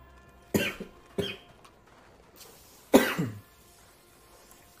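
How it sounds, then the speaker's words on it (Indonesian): Three sharp coughs from one person, two in quick succession and a heavier one after a pause, heard close and alone during a Call of Duty 4: Modern Warfare gaming session. "Aduh, batuk."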